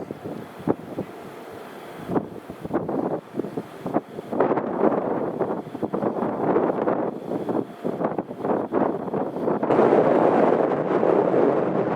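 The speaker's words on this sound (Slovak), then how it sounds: "Počuť, ako vietor vytvára hluk, jak naráža do konštrukcie toho vysielača." Gusty wind buffets and roars against the steel structure of a roughly 20-metre transmitter tower at a wind farm near Hlohovec, with rumbling surges rising and falling throughout and a stronger sustained blast near the end.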